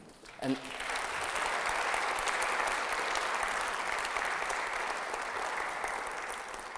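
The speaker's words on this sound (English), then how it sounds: "since you have already given applause" A graduation ceremony audience breaks into steady applause, a dense wash of clapping that rises right after a brief spoken word and holds evenly for several seconds, tapering slightly near the end.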